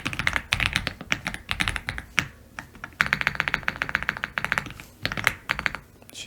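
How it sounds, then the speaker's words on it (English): Rapid, uneven bursts of clicky keystrokes on a computer keyboard, close and clear, with brief pauses between runs of typing. "I can't type today"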